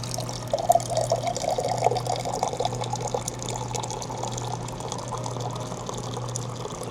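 Water running from a gas station drinking-water dispenser into a cup, a steady continuous pour with a low hum underneath, fairly close and alone without voices.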